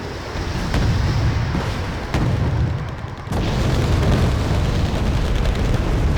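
Leopard tank cannon fire in the tactical war game Wargame: Red Dragon, with heavy booming blasts set against a constant low rumble of battle, including one sharp, loud report near the middle.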